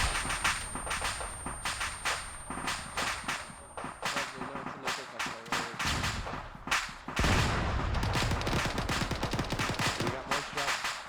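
Gunfire crackles through a military video game during a platoon training session: rapid bursts and single sharp shots, some loud and close, others farther off, repeating throughout with a heavier sustained volley toward the end.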